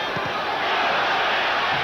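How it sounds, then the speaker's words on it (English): Boxing crowd roaring during the Jaime Garza vs Baby Joe Ruelaz fight, a steady wash of cheering noise filling the arena with a couple of faint thuds underneath. "The crowd loves it."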